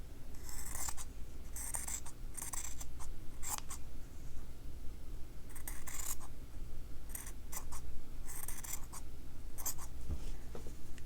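Scissors snipping a stitching piece down to size for a card, crisp cuts coming in short clustered bursts at close range, with no talk over them.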